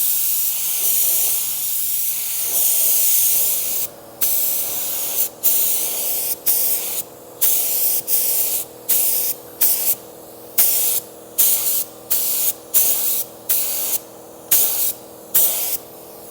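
A Black Widow spray gun sprays Onyx Black basecoat mixed with reducer at 10 psi onto a repaired panel, a close hissing that starts as one long burst and then breaks into a quick run of short, regular bursts with gaps between.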